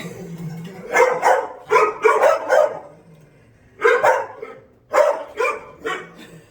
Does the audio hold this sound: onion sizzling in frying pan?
no